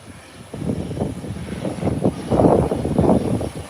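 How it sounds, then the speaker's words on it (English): A private jet passes, its engine a steady low rumbling roar that swells and pulses with no talk, heard from a plane-spotting spot near an airport. "Another private jet."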